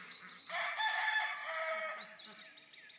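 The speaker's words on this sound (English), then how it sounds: "Let these chickens out." Hens cluck and a rooster crows nearby, the calls rising and falling over a few seconds with quiet farmyard background.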